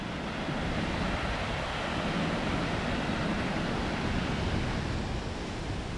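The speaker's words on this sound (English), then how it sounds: "The waterfall." A waterfall at Glendalough, Ireland, pours in a steady, full-bodied roar of rushing water that stays even and unbroken throughout, with no voices over it.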